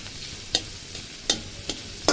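Onion and green chili stirred in a pan for homemade fried rice, a quiet steady sizzle broken by several crisp spatula scrapes spaced unevenly, close and without voices.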